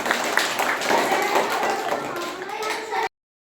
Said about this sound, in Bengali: হাত তালি হোক একটা জোরে